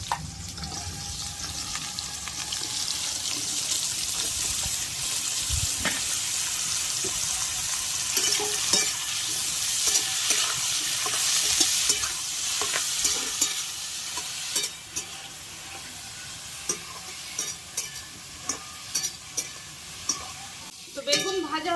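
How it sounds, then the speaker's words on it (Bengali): Eggplant slices fry in hot oil, a dense continuous sizzle with scraping stirs and clinks of a utensil against the pan, growing choppier toward the end, with occasional faint talk. "তো আমি প্রথমে বেগুনগুলো ভেজে নেব।"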